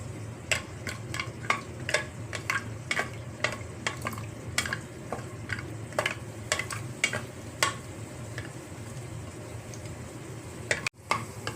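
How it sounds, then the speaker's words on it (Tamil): Cashews fry in hot ghee in a pan, a soft steady sizzle broken by frequent sharp stirring scrapes and taps of a spoon against the vessel, close and without talk. "இதில் முந்திரி பருப்பை வறுத்து எடுத்துக்குவோம்."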